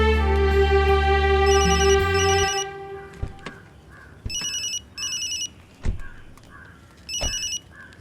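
A telephone rings with a loud warbling electronic tone at first, then several shorter bright ring bursts separated by pauses, with low thuds and faint background sounds between.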